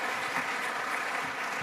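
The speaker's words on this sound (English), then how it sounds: "If we could just give her a big round of applause." An audience at an afternoon event for the Nelson Mandela Children's Hospital applauds Mama Zanele Mbeki with a steady, even wash of clapping heard from a distance.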